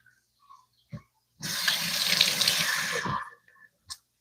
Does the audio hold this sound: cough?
no